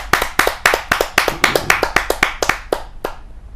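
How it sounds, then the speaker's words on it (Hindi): Audience clapping to welcome a senior woman poet on stage at a Hindi kavi sammelan: about a dozen sharp, loud, evenly spaced claps that slow and fade toward the end. "जोरदार ताली के साथ हम उनका स्वागत करते हैं"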